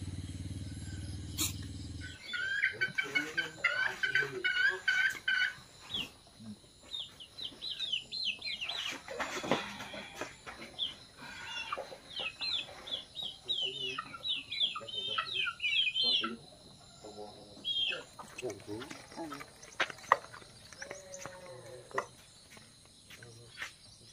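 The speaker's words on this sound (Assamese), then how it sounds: "চৰাই চিৰিকটি উঠিলে" Village outdoor ambience with chickens clucking and small birds chirping in bursts, over a constant insect drone; the calls come and go irregularly at moderate distance, with a few louder nearby clucks.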